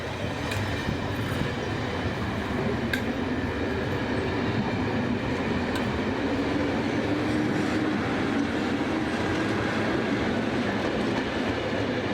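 A 4-VEP slam-door electric train rolls past close by on a main line, a loud steady rumble of wheels on rails with faint clattering, lasting throughout.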